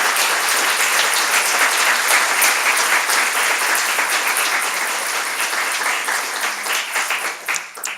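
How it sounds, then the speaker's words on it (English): Warm, sustained applause from a large audience honoring Dr. Williams at a lecture event, dense and even clapping that holds steady before thinning out at the very end. "would you please stand so we can give you a round of applause"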